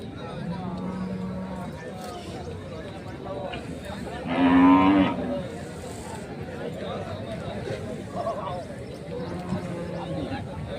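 Cattle at a weekly livestock market, with one clear moo rising above steady crowd chatter and people talking close by throughout.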